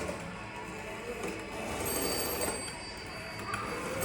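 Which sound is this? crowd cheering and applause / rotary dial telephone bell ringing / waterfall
rotary dial telephone bell ringing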